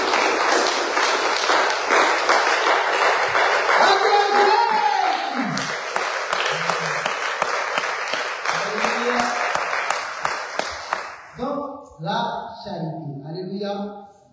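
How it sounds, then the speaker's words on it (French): Congregation at a Senegalese church service clapping and applauding in praise, a loud sustained wash of applause with shouts for about eleven seconds before it fades and a preacher's voice takes over. "Acclamons pour le Seigneur Jésus."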